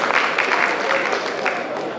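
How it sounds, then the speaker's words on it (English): An audience at a Christmas celebration gives a warm round of applause for a priest and a nun, a dense, even wash of clapping from many people filling the whole stretch. "Let us give to Father Patrick and Sister Nandita a big round of applause"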